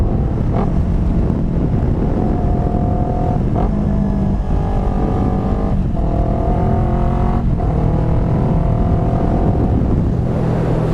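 A motorcycle engine, loud and close, idles steadily while the throttle is blipped to rev-match, rising and falling in several short rev bursts about 1,000 rpm apart; no voices.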